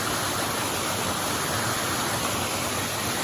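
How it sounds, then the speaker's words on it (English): Water tumbles steadily down a waterfall just below a slide, a dense, continuous roar of rushing water that stays loud and unbroken throughout. "That water flowing down through there."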